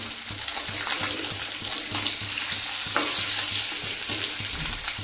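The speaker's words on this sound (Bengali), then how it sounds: "এই ডিমটা বেশ ভালো ভাজা হয়ে গেছে, এটা হওয়া বাকি" An egg fries in a hot pan with a steady, close sizzle and crackle, and a few soft scrapes and stirring knocks come through underneath.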